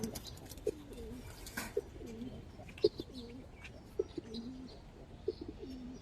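Pigeons cooing close by, a series of soft, low repeated coos at a steady rhythm, with a few sharp knocks and faint background noise.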